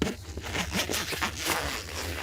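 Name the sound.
zipper being unzipped on a freestanding vehicle awning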